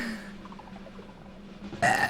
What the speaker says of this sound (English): Victory burp.